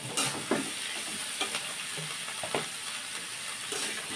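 Diced potatoes, cut fairly thick, stirred into onions frying in a pan, with steady close sizzling and scraping utensil strokes over a constant hiss.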